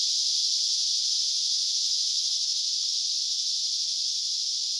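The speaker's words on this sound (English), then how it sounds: "Of course, the bugs are crazy loud." Insects by the San Pedro River drone in a loud, steady, high-pitched buzz that fills the air continuously without a break, with no voices.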